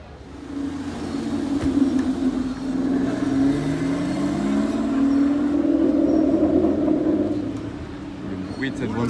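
Large SUV passing on a street, its V8 or V12 engine building to a rising, rumbling roar as it goes by and then fading, heard at moderate distance with a person talking over it.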